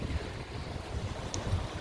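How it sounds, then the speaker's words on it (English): Sea waves wash over coastal rocks in a steady, rumbling surge with wind buffeting the microphone, a continuous low roar at moderate level with no voices. "Can you hear the difference of the sea?"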